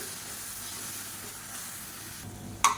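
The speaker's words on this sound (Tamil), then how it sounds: "இப்போ தக்காளி நல்லா வதங்கிருச்சு. நல்லா லைட்டாக அப்படியே எண்ணெய் பிரிய ஆரம்பிச்சிருச்சு." Blended tomatoes sauté in oil with a soft, continuous hiss and sizzle, ending in a sharp click near the close.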